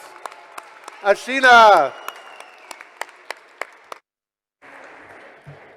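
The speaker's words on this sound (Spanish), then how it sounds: "otra ronda de aplausos para este panel tan inspirante" Audience applause fills a hall after a Spanish-language climate justice panel, a steady patter of clapping with scattered sharp claps, briefly overlapped by a voice and ending abruptly.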